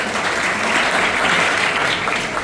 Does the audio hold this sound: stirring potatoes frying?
no